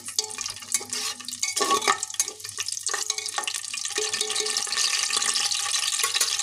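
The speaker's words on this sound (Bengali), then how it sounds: "আর দিয়ে দিলাম গোটা গরম মশলা এটাকে এবারে একটু নেড়ে দেবো" Bay leaves and whole garam masala stirred in ghee and refined oil in a pan, giving uneven scraping and soft sizzling that grows denser and steadier toward the end, with no talking.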